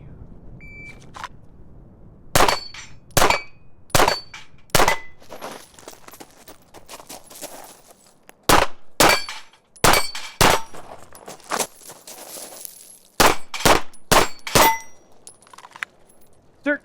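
Ruger RXM pistol fired at a steel plate rack and gong, with sharp, loud shots coming in quick clusters of three and four, each followed by a ringing metallic clang from the struck steel.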